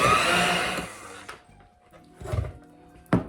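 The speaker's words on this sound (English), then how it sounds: "Now we're gonna mix it up until it's all nice and smooth." Cream cheese frosting for a gluten-free carrot cake bread is beaten smooth, first in a steady loud whirring stretch, then in a few short bursts separated by quieter pauses.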